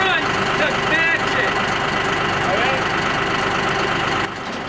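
Tractor engine idling steadily at mid pitch while it holds up a heavy cattle squeeze chute, a constant loud drone with a faint higher whine, easing slightly near the end.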